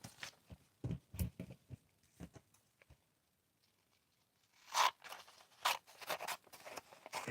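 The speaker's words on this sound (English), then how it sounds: "Isn't that a nice paper sound there?" Blackened paper pages are handled and torn off up close: soft, quiet rustles and crisp tearing crackles in scattered bursts, with a brief near-silent pause in the middle.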